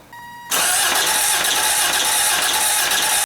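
A 1987 Toyota MR2 engine cranks over during a spark test, a sudden harsh, loud, continuous grinding churn that starts abruptly after a quiet moment and runs without pause to the end.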